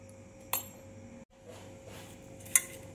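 Masala stirred with salt and chilli in a pan for stuffed aubergines, a spoon clinking sharply against the metal twice over a steady low background hum.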